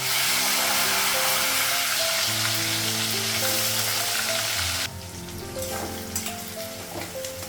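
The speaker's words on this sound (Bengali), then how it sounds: "তেলটা গরম হয়ে গেছে আর কাঁচা লঙ্কাটা লাগাবো" Onions sizzle and fry in hot oil with green chillies, a steady close hiss with occasional stirring over faint background music, during a Bengali home breakfast of luchi.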